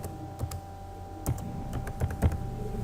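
Password typed on a computer keyboard while deactivating a Twitter account: a handful of separate, crisp key taps spaced irregularly over a few seconds, close and fairly quiet over a steady faint hum, with no talking.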